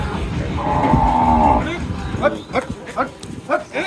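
Cattle being loaded onto a vehicle, one loud drawn-out moo near at hand, followed by people talking, knocks and movement nearby.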